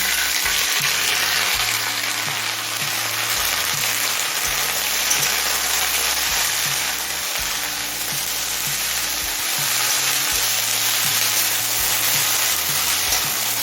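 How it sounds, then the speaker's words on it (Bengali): Pumpkin green stalks fry in a pan of oil with bay leaf and green chilli, a continuous loud, close sizzle with faint stirring underneath and no voices. "এবার কুমড়ো শাকের ডাটাগুলো দিয়ে দেবো"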